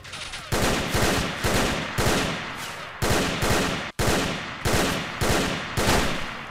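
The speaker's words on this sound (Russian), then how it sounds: "Кто стреляет? Сверху, что ли?" Loud, sustained automatic gunfire in the shooter game STALKER, heard as rapid repeated bursts with brief gaps, close and dominant throughout.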